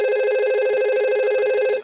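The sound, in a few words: simulated VoIP telephone ringing in Packet Tracer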